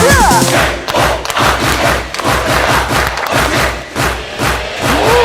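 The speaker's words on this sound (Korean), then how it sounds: "박수!" Seniors at a silver college exercise class clap hands together in rhythm, loud repeated group claps with thumping and background voices mixed in.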